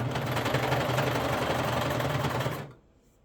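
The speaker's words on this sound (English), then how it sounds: "we work from the top of the fabric, not the bottom, and we're going to go ahead and start sewing" Sewing machine running steadily for under three seconds as it stitches athletic tank top fabric with twin needles, a loud continuous motor hum that stops abruptly near the end.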